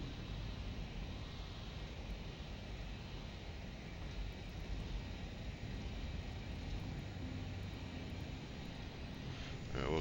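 A LearJet engine on approach into Aspen in Microsoft Flight Simulator 2020, a steady even jet drone with a soft whine, continuous and moderately loud, with no voices over it.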